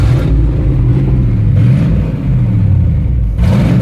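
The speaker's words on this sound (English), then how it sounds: "we'll look at the engine while it's running so you can hear it good." A GMT 400 truck engine runs close up, a loud steady low rumble with slight surges and a faint whir, heard alone.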